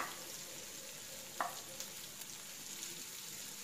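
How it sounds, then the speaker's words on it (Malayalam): Finely chopped garlic and ginger fry in oil left over from frying chicken, a quiet, steady sizzle with a brief louder crackle and a few soft stirring taps, no voices. "ഇനി ആ എണ്ണയിലോട്ട് വെളുത്തുള്ളിയും ഇഞ്ചിയും പൊടി പൊടിയായി അരിഞ്ഞത് ഇട്ട് കൊടുക്കാം."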